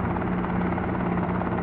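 Helicopter engine and rotor in a helicopter simulator game, a steady loud droning buzz with a constant whine, continuous and uninterrupted.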